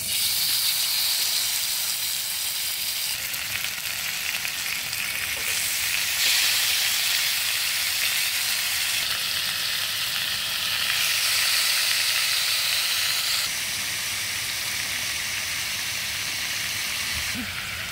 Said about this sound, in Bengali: তেল গরম হয়ে গেছে, এবার আমি কাবাবের শিকটা তাওয়ায় দিয়ে দেব